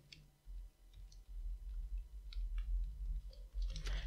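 Someone types code on a computer keyboard, producing faint, irregular key clicks over a low steady hum.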